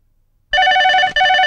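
A telephone rings with a bright, warbling electronic bell, two bursts separated by a brief gap, loud and close after a moment of silence.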